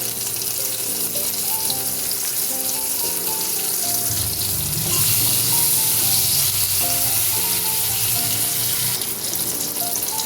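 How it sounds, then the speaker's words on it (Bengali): Chopped tomato with salt frying in a pan, a strong continuous sizzle and crackle close by, with a louder surge midway as it is stirred, no voices. "টমেটোটা ভেজে নিচ্ছি।"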